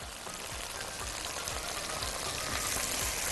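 Garlic frying in a pan gives off a soft, even sizzle with a faint crackle, close and quiet, swelling slightly toward the end.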